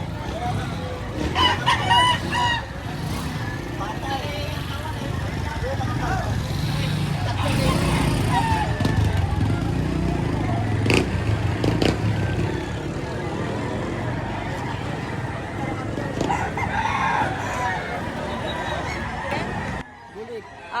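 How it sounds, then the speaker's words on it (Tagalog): Crowds of chickens and roosters at the Padre Garcia Livestock Auction Market in Batangas crow and cluck repeatedly at varied distances, mixed with traffic and people talking throughout a busy, noisy space. "ang dami pong mga manok po"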